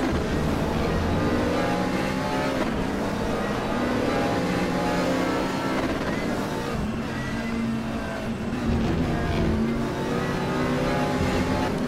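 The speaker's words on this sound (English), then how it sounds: "Really revving the shit out of that McLaren engine, as we can hear from the sound." Simulated McLaren GT3 race car engine in RaceRoom at Spa-Francorchamps, revving hard and steadily for the whole stretch, loud and continuous with shifting pitch and layered engine tones, no talking.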